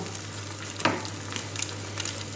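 Water spinach (kangkong) sautéing in a pan for a tomato-and-egg dish, a steady, moderate sizzle with a single sharp stir or scrape partway through and a few lighter clinks after.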